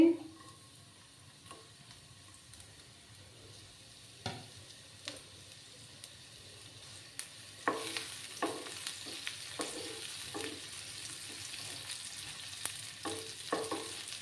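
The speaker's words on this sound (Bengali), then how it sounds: "দেখো বন্ধুরা, তেলটা গরম হয়ে গেছে, এবার আমি পেঁয়াজ দিয়ে দিচ্ছি।" Onions hit hot oil in a pan for a spicy potato masala, a quiet sizzle that swells louder after several seconds, with repeated clicks and scrapes of stirring throughout.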